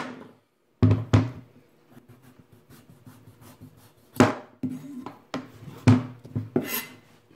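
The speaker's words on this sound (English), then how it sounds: "Then get yourself a cutting board and a good sized knife and cut each end off." A good-sized knife chops through the ends of a butternut squash onto a cutting board: several sharp, close knocks with scraping and rubbing between them, coming in uneven bursts with short quiet gaps.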